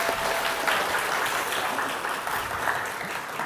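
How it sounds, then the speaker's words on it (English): Audience applause at a university English speaking contest final, a dense, even wash of many hands clapping, steady and moderately loud throughout with no speech. "Please give him a round of applause"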